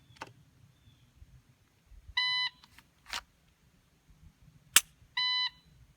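A shot timer gives two short electronic beeps, several seconds apart, with sharp clicks and snaps of a pistol appendix draw in between in an otherwise quiet space.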